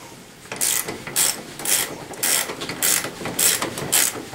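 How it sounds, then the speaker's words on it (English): A ratchet tightens the front-wheel bolt on a Tao Tao ATM50A scooter, giving about seven rhythmic, evenly spaced clicking strokes, close and fairly loud with no talk. "Go ahead and tighten it down."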